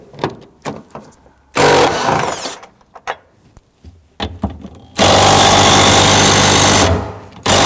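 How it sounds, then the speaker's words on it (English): A 15mm socket on a tool loosens two bolts on the seatbelt bracket of a 2001-2009 Volvo S60 2.5L: two loud, harsh, rattling bursts, the second longer, separated by quieter clicks and knocks. "We're going to use our 15mm socket to loosen and remove these two bolts for this here."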